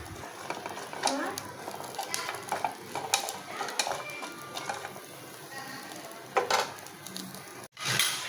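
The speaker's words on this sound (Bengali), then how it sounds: "তো এই যে আমি শুটকিগুলো টেলে নেব" Dried fish (shutki) frying and being stirred in hot oil in a home kitchen, a steady crackling sizzle with scraping and clinking of a utensil against the pan, heard close under faint talk.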